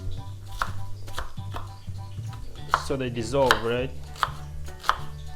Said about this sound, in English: Let's cut the onions.